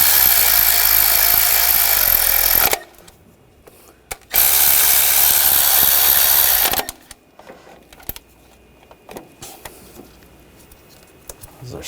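A hand ratchet tightens the ground bolts on a Nissan Rogue 2.5L valve cover, with two long bursts of rapid, close clicking separated by quieter workshop handling noises.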